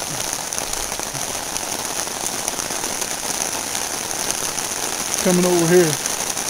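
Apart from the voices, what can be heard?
heavy rain downpour on Collins Road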